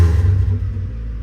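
A Nissan D21 Hardbody truck engine runs just after starting, a loud low steady rumble close by that eases slightly toward the end, with no talking.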